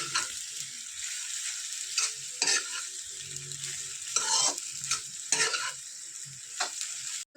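Spatula scrapes and stirs boiled pasta through cooked masala in a sizzling pan, with repeated rhythmic scraping strokes over a constant frying hiss, close and fairly quiet.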